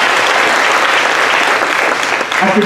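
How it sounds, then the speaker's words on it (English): An audience at a homelessness summit breaks into loud, sustained applause, many hands clapping together in a steady, dense roar close by from start to finish. "Please give them a round of applause."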